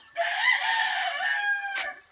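A broiler chicken in a backyard gives one loud, close crowing call lasting about two seconds, ending with a short clucking note, with no voices over it.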